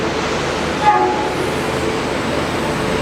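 An Indian Railways WP7 locomotive, a Tata-linked South Eastern Railway zone engine, rumbles steadily at a station alongside train cars, a continuous broadband hum with a brief louder swell near one second.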